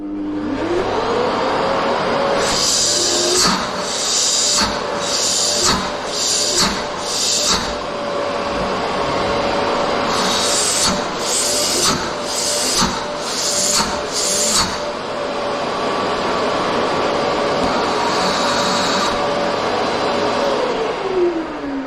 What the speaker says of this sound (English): if you hold your hand over here and then just open this, and it'll create a suction strong enough to clean out that hose